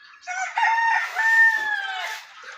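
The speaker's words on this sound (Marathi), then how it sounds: "आपल्याकडे कोंबड्या आहेत" A rooster crows once, long and loud, close by, with a drawn-out rising-then-falling call and no voices present.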